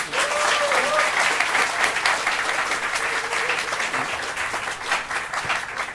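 Sustained applause from a church congregation during an ordination ceremony for new elders, dense even clapping filling the room with a few faint voices underneath.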